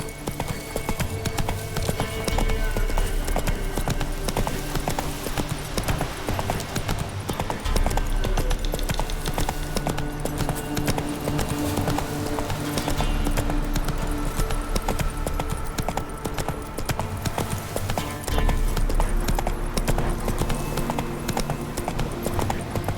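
Roach, a horse in The Witcher 3, clip-clops steadily with rhythmic hoof falls, with game music and ambience running underneath throughout.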